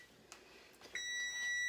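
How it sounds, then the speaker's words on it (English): A kitchen timer beeps with a single sustained electronic tone that starts abruptly after a few faint clicks and holds steady to the end, clear and close in a quiet kitchen. "Okay, so the timer's gone off."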